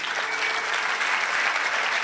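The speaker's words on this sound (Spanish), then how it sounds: "Un aplauso para el Ariel." A church congregation at a Sunday service claps for Ariel, a full, even wash of applause that holds steady and fairly loud from start to finish.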